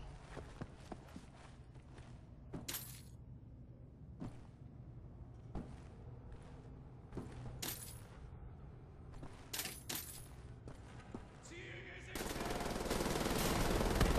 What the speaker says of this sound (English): Oh, that'd be a machine gun emplacement